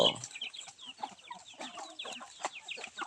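Palawan native chickens on a small rural farm, clucking and chattering continuously at close range with overlapping calls and soft rustling, with no voices.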